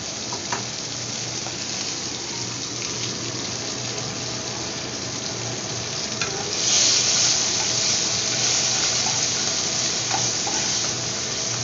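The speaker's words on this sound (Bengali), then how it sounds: "জলটাকে একটু ফুটে উঠতে দেবো।" Water with salt and turmeric heats in a pan for a bata fish mustard curry, giving a steady close hiss and bubble that grows noticeably louder and fuller about halfway through.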